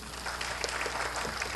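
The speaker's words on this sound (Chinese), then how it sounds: "我们也掌声欢迎他们" Applause rises in a city council chamber to welcome visiting university public affairs students, a brief burst of moderately distant clapping that fills the room evenly.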